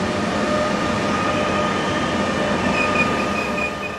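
An ÖBB Taurus electric locomotive, 1016-035, arrives with a passenger train: a steady close rolling rumble with a faint electric whine and thin high tones, continuous throughout.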